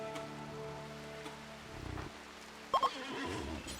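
A horse neighs in the video game RimWorld, one short whinny near the end among soft rain-like game ambience and a brief low rumble, with no talking.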